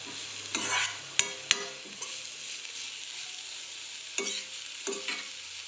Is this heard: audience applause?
no